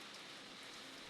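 Steady, moderately faint rain falls during Typhoon Kristine, an even hiss of drops on surfaces with no talk or other sound.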